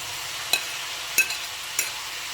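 Green beans being stirred in a hot pan for pancit bihon, with three soft scraping strokes at a slow, steady rhythm over a faint continuous background hiss.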